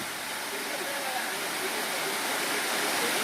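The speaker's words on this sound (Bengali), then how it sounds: "এই হচ্ছে উস্কি ওয়াটারফলস।" Uski waterfall in Similipal, running low in summer, gives a steady broadband rush of falling water that holds constant throughout, with faint murmur of people in the background.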